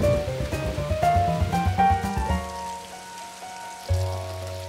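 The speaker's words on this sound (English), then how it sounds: "George didn't mind rain." Cartoon rain falls steadily on a pond where a small monkey has been boating, a soft patter under a bright, melodic music score that thins out midway and swells again near the end.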